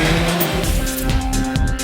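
A Suzuki GSX-S1000 motorcycle engine revs loudly and close, a steady, strongly tonal roar that holds throughout.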